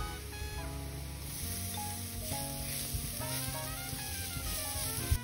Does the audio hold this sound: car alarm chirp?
no